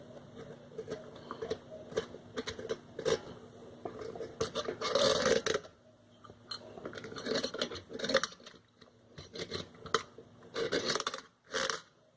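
A razor knife scrapes at the exhaust opening of an Xmark mower in repeated short, gritty strokes, close up, with brief pauses between bursts.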